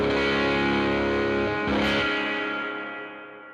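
Electric guitar played through a Tall Bird pedal into an amp simulator, a thick distorted sustained chord ringing loud and alone, swelling slightly near the middle and then slowly fading away.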